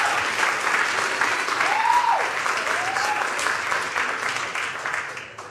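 A crowd at a city council meeting over a police contract claps steadily for several seconds, the dense applause fading slightly toward the end with a few faint voices mixed in.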